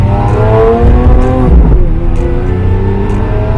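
A powerful car engine growls loudly up close while driving, its pitch rising and dipping as it revs, with no talking.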